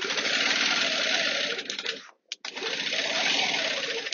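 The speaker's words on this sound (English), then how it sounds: "I'm just going to finish up that first line, just a few more stitches" A sewing machine stitches a quilt with a fast, steady mechanical whir up close, pausing briefly midway before running on again at the same pace.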